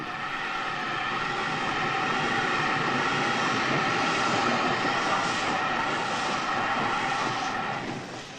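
A train rumbles steadily, a continuous rolling rail noise that swells gently and fades at the end, with no voices, consistent with a steam locomotive shunting freight on Central European railways in 1980.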